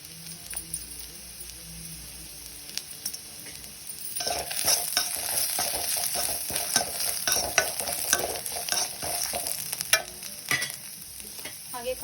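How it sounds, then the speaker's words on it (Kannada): Green chillies, cinnamon, cloves and pepper hit a pan: quiet at first, then a sudden loud crackling sizzle takes over around four seconds and continues with stirring scrapes and pops, close by, no talking. "ಈಗ ಮೆಣಸಿನ್ಕಾಯಿ ಹಾಕ್ಕೊಂಡು ಚಕ್ಕೆ, ಲವಂಗ, ಮೆಣಸು ಇದೆಲ್ಲ ಹಾಕೋತಿದ್ದೀನಿ"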